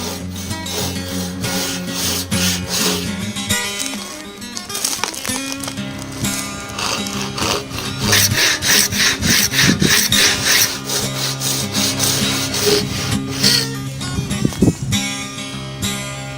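Hand saw ripping along the grain of hardwood from a naturally curved timber pole, with steady back-and-forth rasping strokes running close and fairly loud throughout, alone with no talk.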